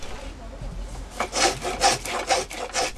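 A traditional hand plane, the doraengi gaetang, used by a Tongyeong master woodworker, shaves the round edge of a wooden soban table in several rhythmic rasping strokes, close and steady after a short quiet start.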